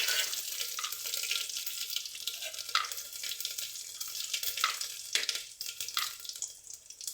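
Cumin and curry leaves sizzle and crackle in hot oil in a pan, a steady hiss with scattered pops and spitting, moderately quiet and without talk.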